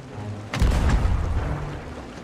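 Cannon fire from a ship during a naval battle in a pirate video game, landing as one loud, deep boom that rumbles and decays over about a second and a half above a low ambient background.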